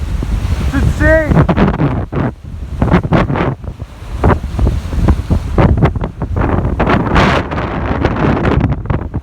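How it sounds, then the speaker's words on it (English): Strong wind buffets the microphone at a jetty while waves break and surge continuously, loud and close, with a person speaking over the roar. "Those are solid waves just from the wind."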